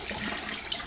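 Cold tap water runs steadily into a sink for rinsing after a shave, a continuous broadband splash that swells briefly near the end, with no voices.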